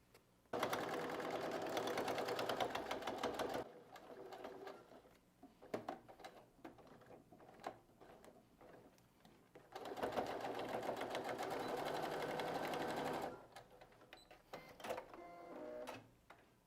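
A sewing machine runs a straight seam on a fabric pencil case in two long, steady bursts, with quiet handling and fabric rustle between the runs.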